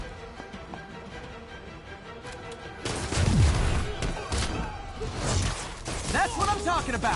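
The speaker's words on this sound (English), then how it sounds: "Gunshot coming!" Gunfire from a Spider-Man video game erupts in loud bursts of shots and booms over dense game action, with voices shouting over the clatter throughout.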